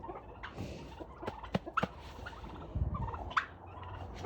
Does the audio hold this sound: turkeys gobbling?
yes